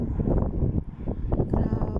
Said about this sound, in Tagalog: tingnan mo naman ang hangin, ang lakas